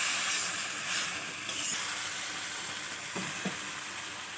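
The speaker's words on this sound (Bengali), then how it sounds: "এবার জল দিয়ে দেবো।" Water poured into a hot pan of egg curry, producing a loud, continuous hissing sizzle that slowly settles, with a couple of faint clinks near the end.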